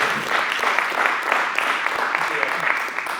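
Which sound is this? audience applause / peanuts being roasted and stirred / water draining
audience applause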